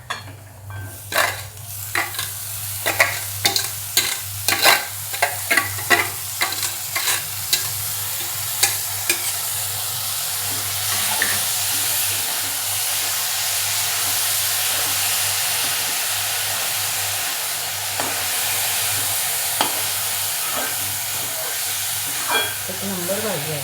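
Mixed leafy greens stir and sizzle in a hot pan, with a steady frying hiss throughout and repeated scraping stir strokes that cluster early and then thin out, all close and fairly loud with no talking.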